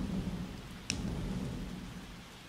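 Heavy rain from Cyclone Biparjoy falls steadily in Barmer, Rajasthan, a soft continuous hiss with one brief sharp tick near the start.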